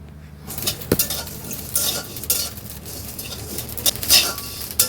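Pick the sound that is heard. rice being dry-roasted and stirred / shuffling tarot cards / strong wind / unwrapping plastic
rice being dry-roasted and stirred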